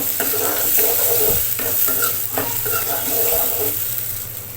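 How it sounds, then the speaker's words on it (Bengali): Raw jackfruit curry with chili powder and turmeric stirred in an oily pan, a steady loud sizzle throughout with repeated scraping and knocking strokes of the spoon close by. "এখন এগুলোকে একটু ভালোভাবে মিশিয়ে নেব"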